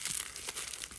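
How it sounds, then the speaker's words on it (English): Paper wrapping is torn and peeled off a canvas mesh tote bag, a continuous close crinkling and rustling with small tearing bursts throughout. "So I'm just taking this paper off of it so I can see"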